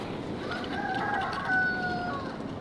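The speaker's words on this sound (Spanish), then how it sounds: "Me fascina que haya gallinas en todos lados." Chickens cluck and a rooster crows in a rural village setting, the birds sounding moderately close over a steady outdoor background with no talking.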